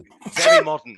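A single sharp sneeze bursts out in the middle of a conversation, loud and close, with people talking just before and after it.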